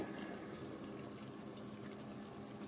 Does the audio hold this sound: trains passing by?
no